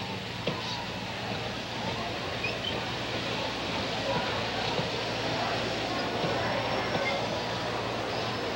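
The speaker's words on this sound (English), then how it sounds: "the passenger train approaches the depot" A passenger train on the ET&WNC (Tweetsie) narrow-gauge line approaches the depot at Elizabethton, a steady low rumble with a broad hiss that slowly builds in level, heard from a distance without any speech.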